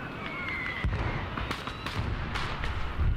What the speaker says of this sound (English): Anti-tank guided missile.